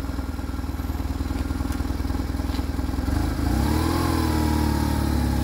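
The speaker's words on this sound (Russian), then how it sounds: "Сам по себе мотоцикл работает довольно ровно, приятно." A BMW R1150RS motorcycle engine runs steadily and close, a dense even throb that rises in pitch and loudness partway through as it revs up, with no voices.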